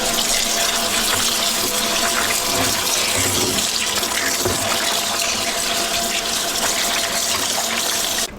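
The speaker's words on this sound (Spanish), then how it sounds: "Y esto lo vamos a enjuagar otra vez para llevarlo a la olla para que se lave con vinagre." Water gushes loudly and steadily from a tap over tripe being rinsed for menudo in a sink, a close, continuous splashing rush that cuts off abruptly at the end.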